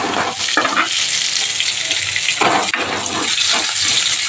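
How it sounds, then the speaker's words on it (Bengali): Potatoes frying in a wok with salt and turmeric make a loud, close, steady sizzle of hot oil, with repeated stirring scrapes breaking through and no talking. "একটু বেগুন করে আলুটা আগে একটু ভেজে নিচ্ছি নুন হলুদ দিয়ে"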